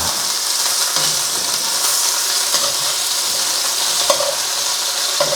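Thin strips of beef sear in a hot pan for spaghetti chow mein, giving a steady, loud sizzle with occasional soft stirring clicks and scrapes over the constant hiss.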